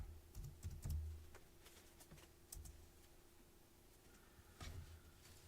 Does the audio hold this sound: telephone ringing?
no